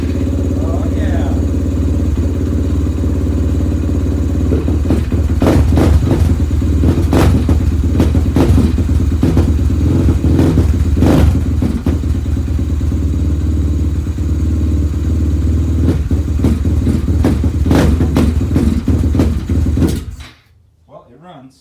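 A Suzuki LTR450 quad engine runs loud and steady for about twenty seconds on a stand after a rescue, with clattery mechanical ticks and bursts over the idle before it cuts off abruptly at the end.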